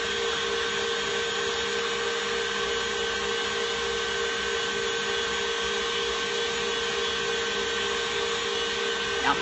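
An electric mixer whirs steadily while blending a marionberry filling with pudding mix, a constant close motor drone with a buzzing tone that holds evenly throughout.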